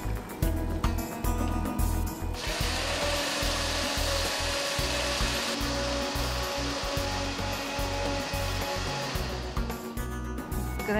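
Electric wet grinder churning freshly grated coconut in a home kitchen, a loud, steady whirring grind with a rougher, rising whine from about two seconds in, continuous for the whole stretch with no talking.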